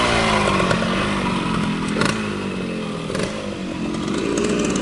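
A first-generation 1972 Yamaha LT100 motorcycle rides past, its small engine buzzing and revving loudly with rising and falling pitch and brief throttle blips, close by and with no talk.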